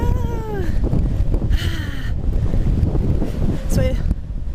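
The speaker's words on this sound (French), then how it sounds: "Regardez le vent qu'il y a." Strong wind buffets the microphone outdoors on a sunny day, producing a steady loud rumble and roar throughout, with a voice briefly and faintly audible beneath it.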